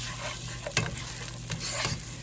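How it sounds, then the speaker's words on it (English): Onions sizzle and fry in a pan while being stirred, with a steady hiss broken by a few sharp scraping stirs; close and alone. "We're gonna saute these"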